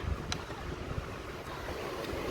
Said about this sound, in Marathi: वारा पण खूप छान सुटलं आहे